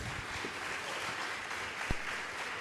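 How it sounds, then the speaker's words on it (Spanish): Audience applause at a Spanish-language question-and-answer session, a steady dense wash of clapping throughout with one sharper thump near the end. "Vamos a darles un fuerte aplauso por"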